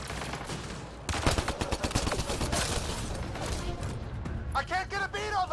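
Rapid gunfire in the video game Mass Effect Andromeda, dense volleys and bursts of shots filling the scene, loud and continuous, with a voice shouting near the end.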